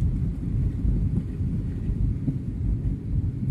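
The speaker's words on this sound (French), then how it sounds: "la pluie tombe encore" Rain falls beside a lake at La Plaine des Cafres on Réunion during a storm, a steady, dense low rumble of downpour and wind with no voices.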